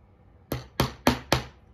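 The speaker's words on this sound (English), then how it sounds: "Just try and hammer them in evenly so they don't get all wonky or bent." Four sharp hammer taps land in quick, even succession, close and crisp, each ringing briefly before the next, as parts are hammered into a pinball playfield.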